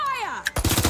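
Gunfire erupts in the video game Watch Dogs: Legion, a sudden loud burst of rapid shots that follows a falling electronic tone.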